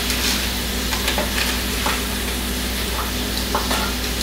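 Butter sizzling in a hot pan over medium-low heat, a dense, even hiss with faint intermittent crackles and stirring scrapes, close and steady throughout.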